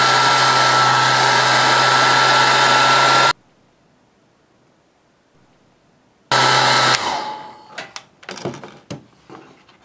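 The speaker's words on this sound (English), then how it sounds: "Here I have just an air dryer," A hair dryer heats a plastic sheet being shaped for a costume: a loud, steady blowing roar that cuts out for a few seconds, restarts, then fades into scattered knocks and handling clatter.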